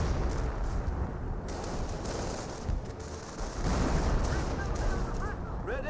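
An American M2 machine gun firing on German Grenadiers in the WWII strategy game Company of Heroes, continuous mid-distance bursts amid battle noise and explosions, with a commentator talking over much of it.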